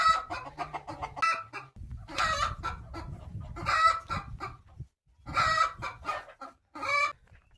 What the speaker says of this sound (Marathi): पूर्ण जाळी आणि आतमध्ये गावरान कोंबड्या आहेत